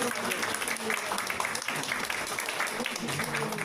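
Audience applause greets the People Power Party's Gyeonggi governor candidate, Ham Jin-gyu, at a campaign event: dense, sustained clapping from a crowd, steady and even throughout.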